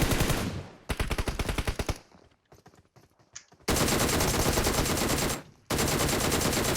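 Automatic rifle fire in PUBG Mobile, with loud, dense bursts of rapid shots broken by short gaps and a few scattered single rounds, and no talking.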